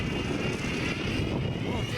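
An Airwolf helicopter engine sound effect played from a TBS mini sound module during an outdoor test, a loud steady whirring drone running unbroken through the clip.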